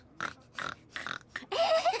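A cartoon pig oinks several times in quick succession, closing with a longer, louder squealing snort, all close by and clear, with no talking over it.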